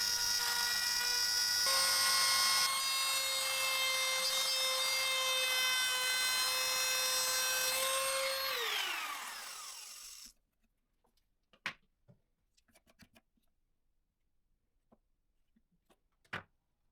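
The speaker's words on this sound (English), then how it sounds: "Then I mill out the marked areas with a depth that corresponds to the thickness of the covers" A power tool milling recesses into wooden pieces for a kitchen knife rack, a loud, steady high-pitched whine that winds down and stops, followed by faint scattered clicks and knocks.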